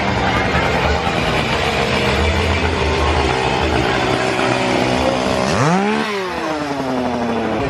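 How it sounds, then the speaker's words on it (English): Chainsaws revved by scare actors at Howl-O-Scream, Busch Gardens Tampa: the engine buzzes steadily, then revs sharply upward in a rising whine near the end before settling back. "we will be greeted with some scare actors with some chainsaws"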